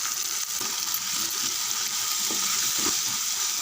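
Ground cumin paste for chicken gravy sautés in a hot pan, producing a loud, continuous sizzle close up, with occasional stirring scrapes underneath.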